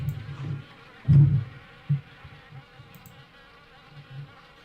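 Wasps buzzing around an abandoned house in the horror game Harvester, a low droning hum with a few louder swells as individual insects drift close, set against a quiet background.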